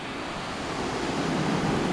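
Water rushes at the N'Go waterfall and river, a dense steady roar of falling and flowing water heard up close and alone.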